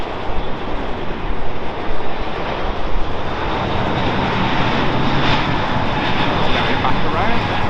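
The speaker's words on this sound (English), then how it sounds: "That's the Emirates A380 coming in from Dubai" An Emirates Airbus A380 arriving at Heathrow Airport and going around, a loud, steady jet roar that fills the whole stretch with a broad rushing rumble and no pauses.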